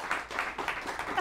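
A small studio audience claps in a brief burst of rhythmic, moderately quiet applause with irregular hand claps and no talk over it.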